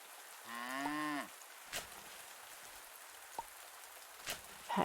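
A cow in a farming game gives a single clear moo, a short tonal low call, followed by sparse faint taps and soft ambient rain-like background.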